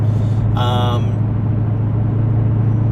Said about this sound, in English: I'm just gonna let the car automatically roll through the gears. It's a big note.